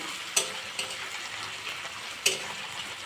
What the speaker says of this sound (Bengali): তাই এটাকে তো ভেজে নিচ্ছি